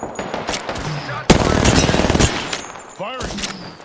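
Gunfire in the video game Apex Legends, a loud rapid automatic burst lasting about a second amid busy game sound effects.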